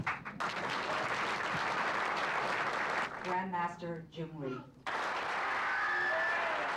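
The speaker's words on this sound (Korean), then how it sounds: "최고의 찬사와 박수갈채 속에 드디어 그가 강단에 올랐다" A crowd applauds for Grandmaster Jun Ree in a hall, a dense clapping wash that pauses briefly while someone speaks his name over a microphone, then swells back up.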